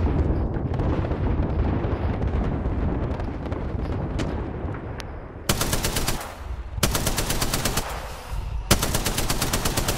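Automatic gunfire in the Apex Legends battle royale game, rapid bursts of shots over a busy, loud game mix, with three long sustained volleys in the second half.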